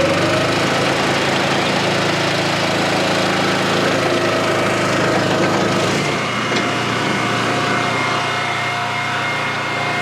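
A small Honda engine on a firewood processor runs steadily at close range, a constant droning hum with a slight shift in tone partway through, no voices.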